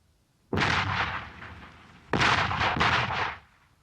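Artillery shells fired during a recce patrol, with two heavy, booming reports a second and a half apart. Each boom rolls and echoes for about a second before fading.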